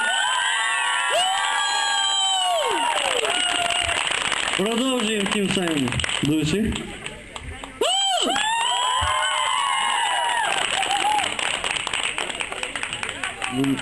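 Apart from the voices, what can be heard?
audience applauding and cheering at karaoke contest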